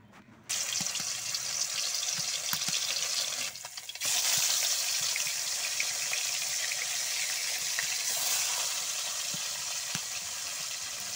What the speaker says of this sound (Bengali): এখন আমি মাছ ভেজে নিব।